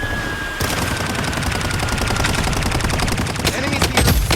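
Dense automatic gunfire in the Blood Strike video game rattles in a loud continuous burst, ending in a few separate heavier shots. A game voice speaks over it.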